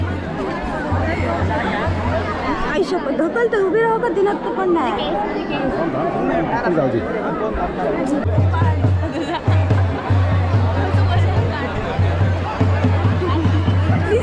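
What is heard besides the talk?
large crowd at temple darshan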